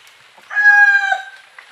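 A single gamecock crow rings out at moderate distance in Bicol, Philippines, rising and fading over about a second against a quiet background.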